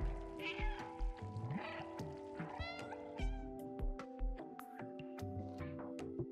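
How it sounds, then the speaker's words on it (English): Repeated cat meows from the video game Stray, some short and some drawn out, over a bed of soft game music and clicks. "You can spam the meow button through almost any of the cutscenes in this game."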